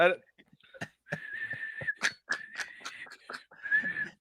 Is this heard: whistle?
yes